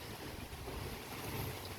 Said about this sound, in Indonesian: Angin cukup kencang